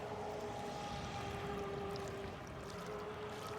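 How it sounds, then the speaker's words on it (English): Steady, fairly faint motor whine from a radio-controlled Proboat Geico 36-inch boat on a 4S battery running on open water, holding a continuous tone throughout with no speech. "Beautiful boat."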